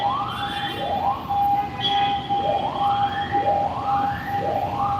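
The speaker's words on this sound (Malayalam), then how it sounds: "അപ്പുറത്തെ സൈഡിൽ കൂടെ ആംബുലൻസ് പോകുന്നത്" An ambulance siren wails in repeated rising sweeps, four or five cycles, over a steady tone and the low rumble of traffic in Kottiyam, Kollam.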